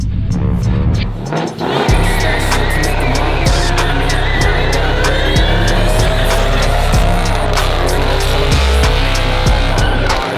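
A Ford Mustang GT500 slides with a loud, sustained tire squeal over a roaring, revving engine. The screech holds steady, broken by sharp bursts and changes in pitch, and it drowns out any voices.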